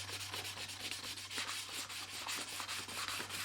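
An 8-string guitar kit body is hand-sanded with 800 grit sandpaper, giving quiet, close back-and-forth rubbing strokes in a quick, even rhythm over a faint steady hum.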